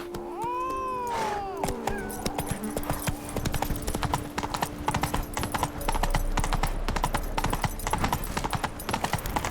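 Hooves of Roach, a horse in The Witcher 3: Blood and Wine, clip-clop in a steady trotting rhythm close by, with a sustained game-music tone and brief creature-like cries early on.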